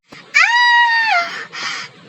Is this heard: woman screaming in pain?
yes